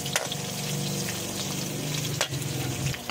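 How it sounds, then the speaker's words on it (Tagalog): Onion and garlic sauté in a pan for Filipino menudo, giving a steady close sizzle with a couple of brief stirring clatters and no talking. "kailangan natin lutuin muna ang ating mga ricado, sibuyas, bawang"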